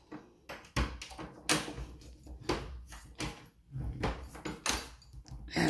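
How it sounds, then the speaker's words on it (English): A house door rattled and thumped as someone tries to open it and it will not give, a series of sharp knocks and clunks, close and fairly loud. "Can't get this door open."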